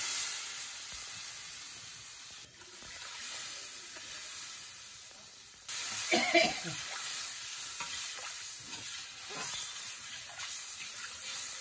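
Water poured into a hot pan of boal fish curry, producing a constant sizzling hiss with a sudden louder splash and bubbling burst midway, plus intermittent stirring clinks, close up and without talking.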